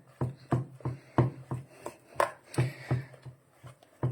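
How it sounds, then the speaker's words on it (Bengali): Jaggery batter for poa pitha is whisked by hand in a bowl, making a steady series of close, soft knocking strokes, roughly three per second, with no talking. "এবং ব্যাটারটাকে আবারও ফেটাতে থাকছি।"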